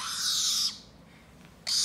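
Close, loud, raspy calls from a pet bird at play with Bonnie: one drawn-out screech fades into a pause, then another begins sharply at the end.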